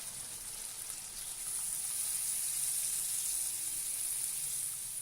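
Water poured from a glass into kofta gravy in a cooking pot, a steady hissing, sizzling flow that grows slightly louder midway and continues alone for several seconds.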